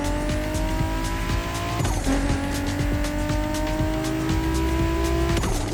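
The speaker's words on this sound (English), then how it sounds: "can we just hear this engine? Oh my gosh. Alright, I'm going to do a little pull here." A race car engine in the video game The Crew Motorfest revs hard and climbs through the gears, its high-pitched whine shifting with each change, with brief tire squeal, loud and close throughout.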